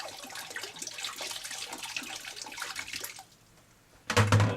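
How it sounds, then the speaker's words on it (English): Water is dumped out of a homebrew bottle, a continuous splashing gush that fades near the end before a short louder clatter. "dump the water out"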